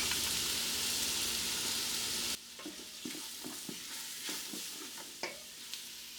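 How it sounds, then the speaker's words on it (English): Flour stirred into hot fat for a roux sizzles in a pot, a dense hiss that drops sharply midway, followed by quieter sizzling and scattered scraping taps from the stirring spoon, no talking. "We're going to add 2 tablespoons of flour to make a roux."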